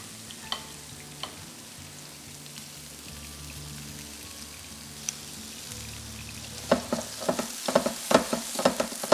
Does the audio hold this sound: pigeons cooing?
no